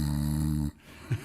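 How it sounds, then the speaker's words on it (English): One person snores in a deep sleep, a steady rumbling inhale followed by a pause and a short snort, close and clear with no other sound. "That's the sound of someone sleeping soundly on a Restex mattress."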